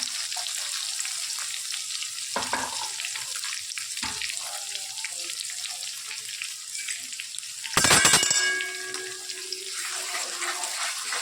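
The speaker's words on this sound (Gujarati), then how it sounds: "એના અંદર લીલા મરચાં અને લસણ પહેલાં નાખી દઈશું." Green chillies, garlic and onions frying in a pan give a steady, close sizzle throughout, with a brief louder crackling burst partway through and no talking.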